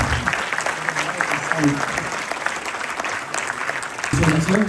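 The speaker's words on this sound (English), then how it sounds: "Loud applause." Loud applause from an audience welcoming the quizmaster at a school international quiz event, sustained clapping throughout with a voice speaking over it.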